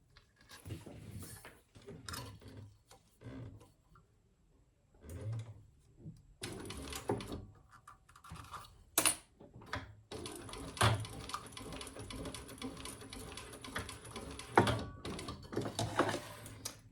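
A sewing machine top-stitches a leather wallet in short, irregular bursts of rapid mechanical chatter, starting and stopping, then running more steadily toward the end.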